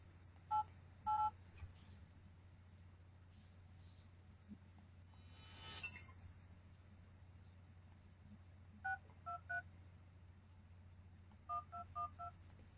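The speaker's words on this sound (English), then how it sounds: "on my cell phone, I'll just call through and test this number" Keypad tones from a cell phone being dialled: short paired beeps in small clusters, a few at the start, more near the end, clear and fairly close over a low steady hum, with a brief rustle in the middle.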